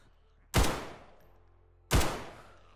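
Two loud, sharp gunshots sound in the survival video game DayZ, each a sudden crack followed by a decaying echo, about one and a half seconds apart.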